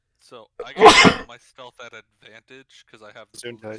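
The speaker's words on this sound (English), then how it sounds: "Ew, did you just sneeze" One sharp, loud sneeze into a hand bursts out near the start, surrounded by someone talking calmly before and after it.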